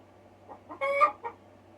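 A smart assistant plays a chicken clucking sound effect: a few short, quiet clucks build to one louder, drawn-out squawk in the middle, then a final cluck, with nothing else around them.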